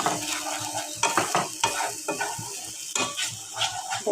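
Spiced masala sautéing in a hot pan for a lentil and egg dish, with a steady sizzle and a spoon scraping and stirring in quick repeated strokes, close and fairly loud, with no voices.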